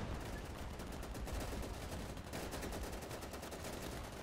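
Sustained rattling bursts of gunfire in the Easy Red 2 video game, rapid and dense throughout, heard fairly quietly with no talk over it.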